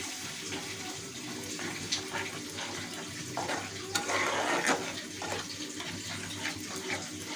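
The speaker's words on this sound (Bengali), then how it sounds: "এই যে 4-5টা কাঁচা লঙ্কা দিয়ে দিলাম, তাতে অল্প জল দিয়ে দিলাম।" A small amount of water poured into a cooking pan holding four or five green chillies, giving a close, steady splashing pour that swells briefly midway, with light kitchen clatter around it.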